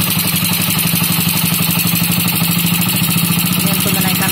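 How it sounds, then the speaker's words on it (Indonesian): A Yamaha Jupiter Z motorcycle engine idles after a carburetor adjustment, a loud, close and even rapid putter that holds a steady speed throughout. "Ini namanya putaran langsam."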